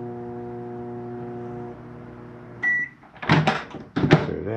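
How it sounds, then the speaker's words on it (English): A microwave oven in a 2022 Wildwood 26DBUD RV hums with a steady close drone, stops, then a beep sounds and the door clunks and rattles open and shut twice. "You got a self-explanatory microwave."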